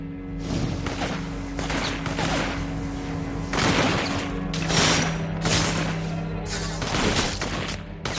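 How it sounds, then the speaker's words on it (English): Enemies open up with rapid, dense gunfire in the inFamous 2 video game, a continuous crackling volley of shots and thuds that stays loud and busy throughout. "There's some idiots down there shooting up anything that moves."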